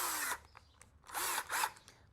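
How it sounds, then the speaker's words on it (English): A power drill bores screw pilot holes for a homemade bird feeder, two or three short whirring bursts close by, separated by quiet pauses, with no talking. "I'm going to pre-drill some holes for the screws"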